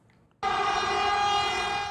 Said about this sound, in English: A passing train's horn echoes down a stretch of track on Taiwan's east coast.